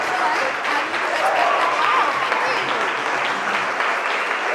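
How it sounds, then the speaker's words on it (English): Wedding guests applaud and cheer the newlyweds at the close of the ceremony, a dense, continuous round of clapping that holds steady throughout. "we can keep that cheer and round of applause ready as we officially congratulate our newlyweds"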